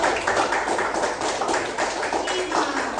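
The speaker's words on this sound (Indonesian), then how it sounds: "beri aplaus untuk kelompok 5" A group applauds for a presenting team at a university teacher-training session, with steady, dense clapping from many hands that runs for about three seconds.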